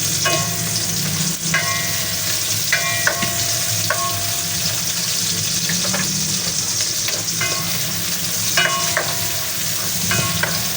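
Onions hitting a pan with garlic and ginger, frying with a steady loud sizzle while a utensil stirs and scrapes in repeated short strokes; no voices.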